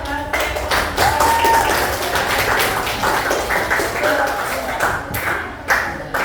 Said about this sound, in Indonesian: silakan kasih aplaus untuk kelompoknya